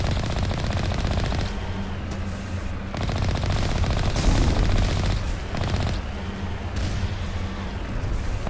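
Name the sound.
machine gun fire in Mass Effect video game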